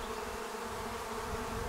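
Honey bees from a swarm buzz steadily at a hive entrance, a dense continuous drone holding even and close for the whole stretch with no voices.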